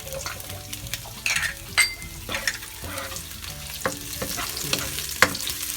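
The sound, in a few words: onions sautéing in a pan for clam soup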